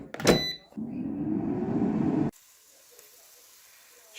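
Shrimp cooking in an air fryer, a steady hiss and fan whir for about a second and a half after a brief clatter, then cutting off to near silence.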